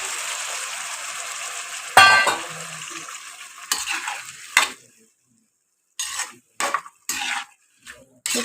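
Tamarind water poured into a hot pan of sautéed ingredients for lunch, hissing loudly at first, then a fading sizzle followed by short bursts of spoon stirring and scraping against the pan.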